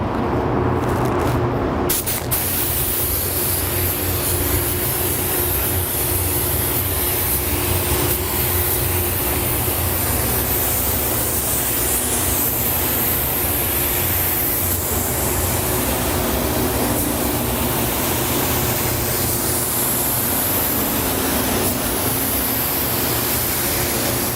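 Iwata Airgunza 1.8 spray gun laying water-based candy pearl car paint over bodywork at 28 to 30 psi, a loud, steady, close hiss of air and atomized paint that runs unbroken for the whole stretch.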